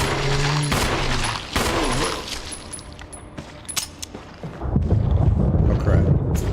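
Resident Evil gunfire crackles in rapid bursts and loud pops over a busy, noisy game soundtrack, with some talk mixed in and a denser rumble near the end.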